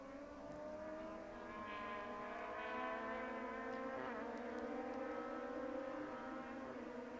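Race cars on a racing circuit sweep past in a JK Tyre series race, engines droning steadily at moderate distance, with layered tones shifting as they pass and one car briefly rising above the rest.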